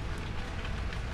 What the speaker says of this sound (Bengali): স্নিগ্ধ বাতাস, ঠান্ডা বৃষ্টির জল